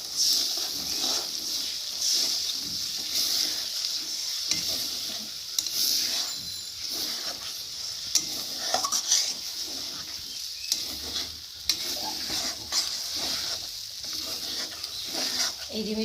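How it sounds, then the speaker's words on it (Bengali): Beaten eggs cook in a spice mixture over high heat for egg bhujia, with a constant soft sizzling hiss and irregular light taps and scrapes of a spatula stirring. "মশলার মধ্যে এবার ডিমগুলো ঢেলে দেবো। আঁচটা একটু বাড়িয়ে দিতে হবে এখন"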